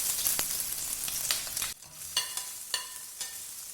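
Dried chillies, curry leaves and ginger sizzling in hot oil after mustard seeds have popped, a dense crackling hiss broken by a brief pause, then sharper spattering pops resuming close by.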